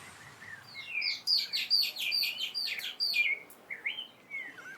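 A rapid series of sharp, scratchy social flycatcher alarm calls, excited chattering notes tumbling over one another, fairly close and loud against faint background.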